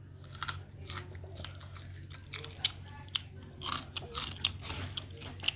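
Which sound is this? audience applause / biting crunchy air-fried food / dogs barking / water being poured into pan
biting crunchy air-fried food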